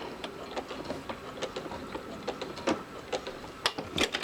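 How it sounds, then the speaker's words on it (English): A sewing machine back tacks across the shoulder seam of an Eesti-style ring sling, a close, quick run of mechanical ticks and clacks in short uneven bursts with sharper knocks near the end. "And there's that back tack again."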